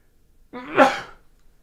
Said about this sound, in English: I gotta sneeze again